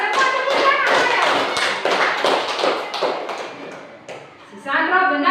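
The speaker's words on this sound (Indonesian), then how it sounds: "Ayo, semua tepuk tangan." A primary school class of sixth graders claps together for a classmate during a religion lesson, a dense burst of hand claps close by that thins out and then gives way to children's voices.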